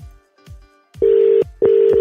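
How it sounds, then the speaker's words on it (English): A telephone rings loudly over the line during a radio call-in, giving two long tone bursts, with low thumping background music beneath. "Phone is ringing."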